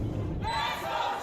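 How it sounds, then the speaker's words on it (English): A loud arena crowd at a VALORANT Game Changers Championship match roars and cheers for the home team, a dense sustained wall of voices that swells through the moment. "Crowd getting loud for the home team here."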